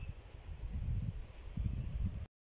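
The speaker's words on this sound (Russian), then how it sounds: "Ветер у нас сильный." Outdoors in a vegetable garden with flattened potato plants, strong wind rumbles against the microphone in two gusty surges, a low buffeting roar that swells and eases before the sound cuts out.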